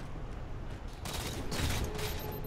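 Bursts of automatic gunfire from a first-person shooter match, heard as faint, rapid crackling volleys in the background, with a denser burst partway through and no talking over it.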